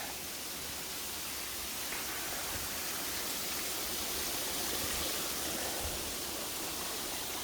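Water pours steadily down from the hills into a lake at the ruins of Penscynor Wildlife Park, a continuous broadband rushing roar like a waterfall, even and unbroken throughout with no voices.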